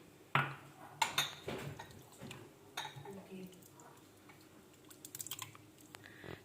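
A spoon stirs a sabudana drink with a few almonds and pistachios, giving faint, scattered clinks and taps against the vessel, a few sharper knocks early on, then light, quick ticks near the end, all close and quiet.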